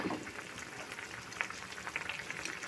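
Fish curry cooking over high heat in a pan, a steady close bubbling sizzle with faint scattered pops and light stirring, no talk.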